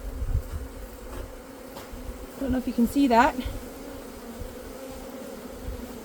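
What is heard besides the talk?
honey bees buzzing in nucleus colony box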